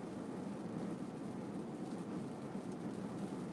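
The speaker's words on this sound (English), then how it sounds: "right now down here, it's just light rain and the wind is steadily picking up" Steady light rain and gusting wind as a hurricane approaches landfall, a dense, even wash of noise with no voices.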